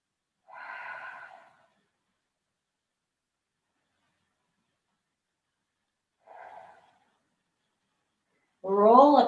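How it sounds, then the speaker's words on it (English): Two slow, soft breaths taken during a Garuda mat workout, each a brief airy rush separated by long silence, followed by a short burst of spoken voice at the end. "Take a few breaths here."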